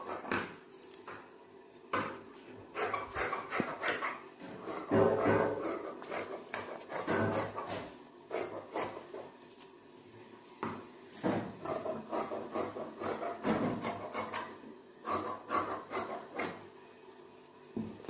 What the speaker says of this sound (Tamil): அடுத்து ஃப்ரண்ட்டு கட் பண்ணிக்கிறோம்.